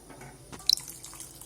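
Water pours into a pot in a home kitchen while a Kathiyawadi curry of cashews and gathiya simmers; a short, faint splash and trickle with a couple of brief sharper drips, no talking.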